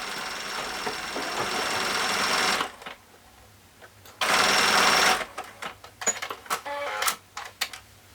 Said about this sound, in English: put the presser foot inside of the tube and then sew around